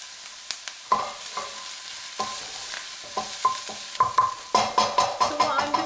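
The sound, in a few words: onions caramelizing in a pan with meat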